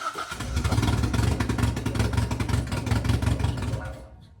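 A rebuilt 4AGE engine in a 1975 Toyota Corolla KE35 roars steadily at high revs nearby, loud and continuous, then cuts off abruptly at the end.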